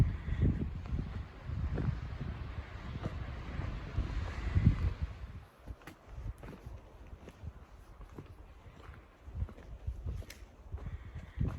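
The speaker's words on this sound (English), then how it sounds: "A little bit breezy up here" Gusty wind buffets the microphone high on a mountain ridge in the Sandia Mountains, a steady low rumble that swells and eases over several seconds.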